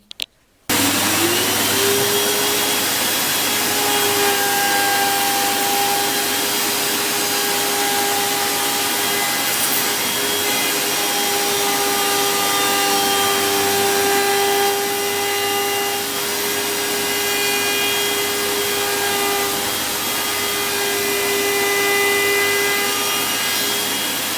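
A power router milling quarter-round edges on wooden bed legs runs loud and steady at close range, a continuous high whirring drone with a rough cutting hiss throughout after a brief start.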